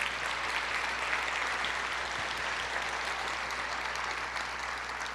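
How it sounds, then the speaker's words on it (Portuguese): A church congregation applauding, a steady dense wash of clapping from many hands that fills the room evenly for several seconds, with a faint low hum beneath and no talking. "Pode aplaudir ao Senhor."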